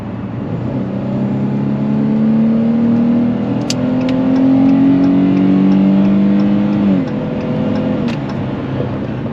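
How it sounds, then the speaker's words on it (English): A Dodge Challenger SXT AWD with a V6 accelerates hard onto a highway, the engine note climbing through rising revs, dropping briefly at a gear change, then pulling up again before settling, heard from inside the cabin with no talk. "Let me just punch it as we get in the highway here."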